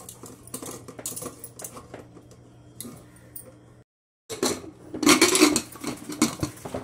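Mustard greens tipped into water in a pressure cooker in a home kitchen, with clattering metal pot and utensil sounds, a brief silent gap, then louder rustling and knocking as the leafy greens go in, close up.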